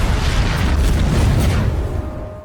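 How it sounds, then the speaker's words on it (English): A car explosion from a gas tank: a deep, rumbling boom that swells across the whole clip before fading near the end, loud and noisy with no voices. "The explosion blasts the car into a nearby sinkhole filled with water, and Stefani begins to sink."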